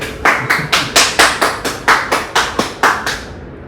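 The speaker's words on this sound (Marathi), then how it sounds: "टाळ्या." Steady, evenly spaced unison hand claps, about a dozen in a regular beat, from an audience at a stage demonstration debunking a self-styled godman's miracles, fairly close and with no talking.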